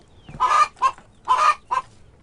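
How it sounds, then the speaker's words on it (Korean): Native Korean chickens call on an eco-friendly farm early in the morning: two pairs of loud, close squawking bursts, each long call followed by a short one, with no talk. "아침을 날리는 토종닭들의 울음소리와 함께"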